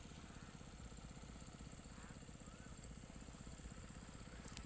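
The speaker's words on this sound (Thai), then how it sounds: "เสียงเครื่องสูบ เครื่องสูบน้ำ" A water pump engine runs steadily beside a rice field, its low, continuous mechanical chug holding even throughout without pause or change in pace.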